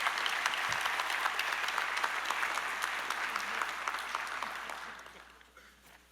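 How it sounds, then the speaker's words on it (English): Audience applause at a state of education event as superintendents walk up to the stage, sustained dense clapping from a large crowd that tapers off toward the end. "let's give a round of applause for those individuals I just announced."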